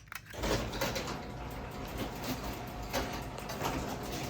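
A Craftsman 1270 chain-drive garage door opener runs with a steady mechanical rattle and hum, broken by intermittent clanks and pops from the door, fairly close and moderate in level.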